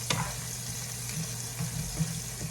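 Garlic and vegetables sauteing in a pan, a steady close sizzle with a few soft stirring clicks and bumps throughout.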